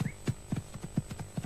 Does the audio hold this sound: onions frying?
no